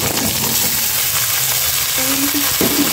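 Malabar spinach flowers frying in a pan give a steady, loud sizzle with faint stirring scrapes toward the end.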